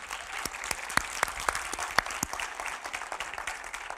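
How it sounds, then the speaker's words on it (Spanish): Church congregation clapping in welcome during a Spanish-language service, a moderate room of individual claps with sharp distinct hand strikes standing out through the brief round. "Un aplauso para ustedes."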